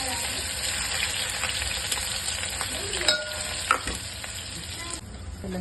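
Chopped onion fries in hot oil with mustard seeds and cumin for sambar, a close, continuous sizzle broken by stirring scrapes and a few sharp clinks, no talking.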